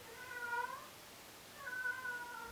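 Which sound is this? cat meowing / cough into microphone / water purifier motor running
cat meowing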